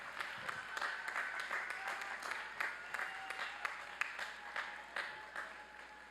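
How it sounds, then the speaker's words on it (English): Graduates at a university spring commencement give their families a standing ovation, steady applause from a large crowd heard from a distance in a big hall. "Why don't you give your family a standing ovation and show them how much you love them too."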